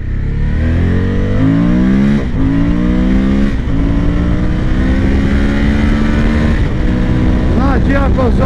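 A 2023 Suzuki V-Strom 1050 DE motorcycle engine revs and pulls hard under acceleration, its rising drone steady and loud from start to finish with a few quick gear-change dips along the way.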